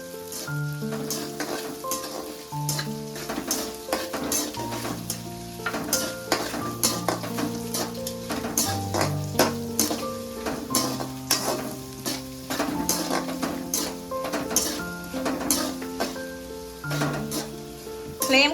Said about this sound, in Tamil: இப்போ நான் வந்து வெங்காயம் சேர்த்துக்கிறேன் கொஞ்சம் டிரான்ஸ்பரண்ட்டாக ஆகிற அளவுக்கு வெங்காயம் நல்லா வதங்கட்டும்